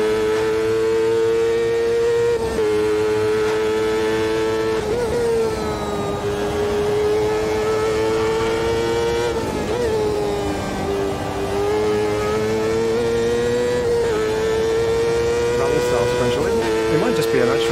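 Champ car engine in Automobilista 2 racing game, a loud sustained high-pitched whine that holds steady with small rises and dips as the revs shift, alone and continuous throughout.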